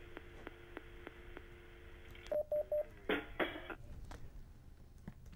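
Telephone line tones from a call-in broadcast as a caller drops off: a series of short beeps, then a few louder, harsher tone bursts, heard fairly close with no talk over them.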